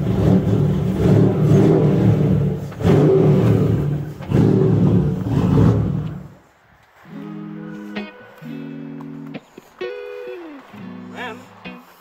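A V8 minibus engine revs hard in loud, roaring bursts for several seconds, then drops away to quieter, tonal whining sounds.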